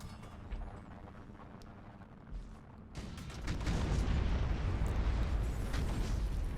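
Space fleet attack in Battlefleet Gothic Armada 2, with quiet ambience giving way after a few seconds to a dense, sustained roar of explosions and weapons fire.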